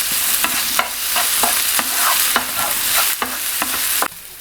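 Chopped onion sizzles steadily in a hot pan for Japanese croquettes, with a utensil scraping and stirring it at a quick, regular rhythm of close, crisp strokes and no talking.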